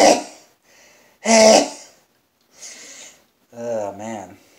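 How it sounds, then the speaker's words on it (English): Someone in the middle of a prolonged sneezing fit lets out a few sharp, explosive nasal bursts separated by short pauses, followed by breathy sounds and a groaning voice. "We're up to 5 minutes of sneezing."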